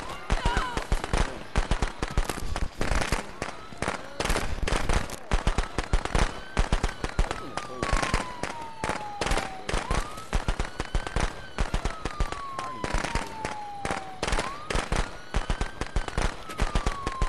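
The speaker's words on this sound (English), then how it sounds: "I have firecrackers." Firecrackers pop in fast, irregular bursts throughout a Friday the 13th video game match, a dense crackling barrage with tonal whistles sweeping through at moments.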